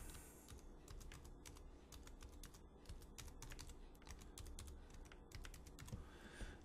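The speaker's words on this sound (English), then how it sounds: "And so I got to type in the password." Password being typed on a computer keyboard, quick bursts of light key clicks in an irregular rhythm, close and fairly quiet, with no talking.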